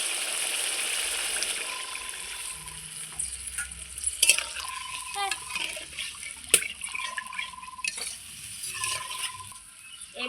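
Fried poppy seeds sizzle in a pan as a little water is added for a Bengali potol posto, with stirring scrapes and soft frying crackle running throughout and a few sharper clinks, no talking.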